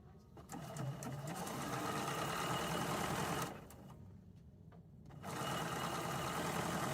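A sewing machine stitches a snowman table topper with a steady, fast, whirring drone up close. It pauses briefly for a few seconds, then resumes at the same loud, even speed.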